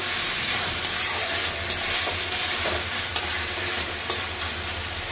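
Okra curry sizzles steadily in a pan with a loud, continuous frying hiss, broken by a few sharp clicks of a spoon stirring against the metal. No voices are present.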